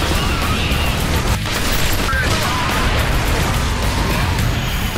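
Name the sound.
grenade explosion in video game Fracture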